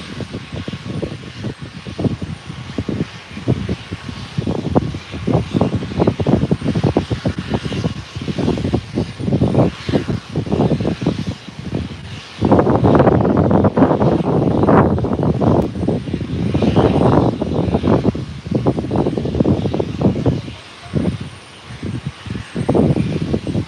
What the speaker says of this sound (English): Getting a lot of wind here.